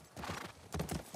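Horse hooves clip-clopping in The Last of Us Part 2, a short quick run of close hoof beats on hard ground, faint with no talk.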